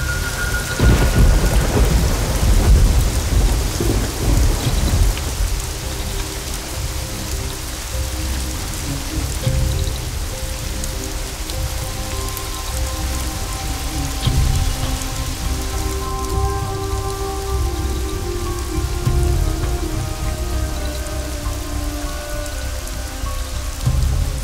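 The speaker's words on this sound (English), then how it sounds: "It's raining heavily here." Heavy rain falls continuously with a dense, hissing roar, low rumbles of thunder underneath and a steady drumming on surfaces.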